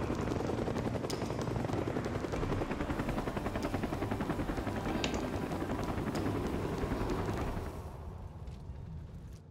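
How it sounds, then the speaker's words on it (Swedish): Helicopter rotor thumping steadily and loudly in a video game, a dense continuous chop with faint clicks and distant gunfire-like cracks, dropping in level near the end. "Ny helikopter."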